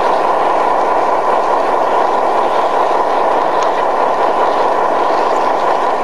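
A garden railway model train runs steadily past an outdoor layout near a bridge and a tank storage farm. It makes a constant, fairly loud mechanical rumble and whir with no pauses.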